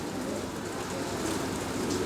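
Heavy rain pours steadily over an outdoor political rally in Bihar, a dense continuous hiss that stays loud and even throughout with no voices standing out.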